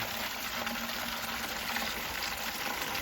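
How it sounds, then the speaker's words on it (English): Rainwater running into a bucket at an outdoor rainwater collection area for an organic fertilizer mix: a steady, even gush of pouring water held for the whole stretch, with no voices. "we're going to fill it up with rainwater"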